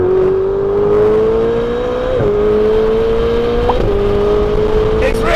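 A turbocharged Ferrari 488 supercar drives fast through the Pyrenees, its engine droning loud and steady from inside the cabin, pitch climbing within each gear and dipping at quick shifts.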